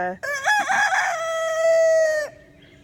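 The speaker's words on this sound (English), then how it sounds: "learned from the other roosters how to crow" A single loud rooster crow, close by, rising then holding a long strained note for about two seconds before cutting off.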